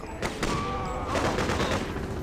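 Shotgun blasts fire in a Freedom Fighters game remade in NES style, several quick crackling bursts within a couple of seconds, fairly loud and close over a busy game soundtrack.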